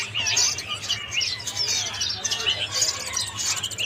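Kapasan kemiri nestlings, fairly large and sold individually, give a steady stream of thin, high chirps close by, with the calls overlapping throughout.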